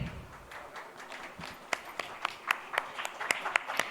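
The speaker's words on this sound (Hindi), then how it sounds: "जोरदार तालियों से स्वागत।" Scattered hand claps build into light applause over a faint background hum at an astrology convention stage event in India, the claps growing louder and more frequent.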